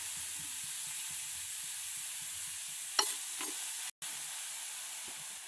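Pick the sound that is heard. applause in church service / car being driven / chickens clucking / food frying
food frying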